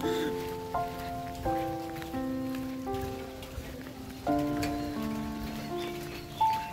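Steady rain falls on a village in Mirpur, Kushtia, Bangladesh, pattering evenly throughout while a sustained melodic tone plays over it.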